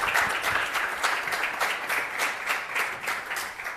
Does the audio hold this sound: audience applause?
yes